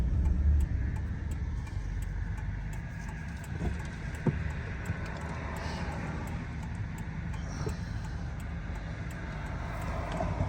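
A 2008 Toyota Tundra pickup truck drives along the road after a transmission solenoid repair, its engine and road noise a steady moderate rumble, with a few faint knocks and rattles from the cab.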